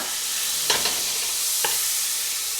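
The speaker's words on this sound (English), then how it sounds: "And I'm just melting our butter down." Butter melting in a skillet preheated just over medium heat, giving a steady soft sizzle with a few faint clinks of a utensil against the pan.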